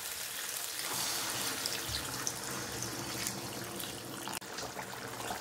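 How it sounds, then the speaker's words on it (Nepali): Water is poured into a pan of Nepali egg curry, a soft continuous trickle and splash that runs steadily at low level, broken by one brief clunk near the end. "आवश्यकता अनुसार पानी राख्ने"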